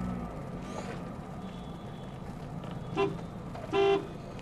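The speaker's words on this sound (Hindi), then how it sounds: "और हॉर्न सिर्फ सेंटर में बज रहा है" A Chevrolet Aveo UVA LT with 80,000 km on it gives two short horn toots, the second slightly longer, over a low steady rumble of traffic or engine noise.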